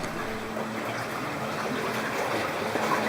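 Wastewater flows steadily through an underground sewer beneath a Swiss plateau community, with a continuous rushing, trickling wash that stays even and close, no voices.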